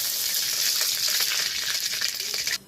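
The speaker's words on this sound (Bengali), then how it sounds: "তাই কড়াতে তেল দিয়ে দিচ্ছি।" Oil sizzling in a hot kadai before potatoes go in, a bright, steady hiss with crackles, close and loud, cutting off abruptly at the end.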